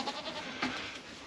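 Goats bleating in a homestead barn at feeding time, several overlapping calls at moderate distance with a louder bleat midway, no talk.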